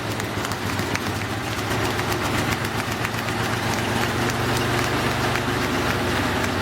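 Harzer SCHMIEDE record motorcycle from Germany's Harz region, built around a massive military engine, running steadily at a low, even idle, loud and close with a deep rumbling throb throughout.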